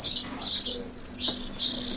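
Baby cardinal and cowbird nestlings chirp in rapid, high repeated bursts, close and loud, forming a quick rhythmic run of calls with a brief pause near the end.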